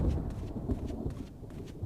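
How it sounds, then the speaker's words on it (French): Low rolling thunder rumbles with rain in the video game Resident Evil (2002), a dense, muffled roar that stays steady and moderately loud for under two seconds. "j'ai sursauté avec le tonnerre."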